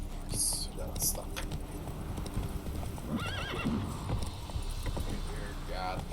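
Roach, the horse in The Witcher 3 video game, gallops with rapid, steady clip-clopping hooves and gives a couple of whinnies, while a person speaks quietly over the sound.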